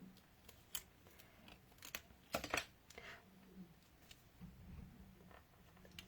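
Scissors snip paper during a card-making craft session, a few short sharp cuts clustered mid-clip among quieter handling rustles and taps on a work surface, close and fairly soft.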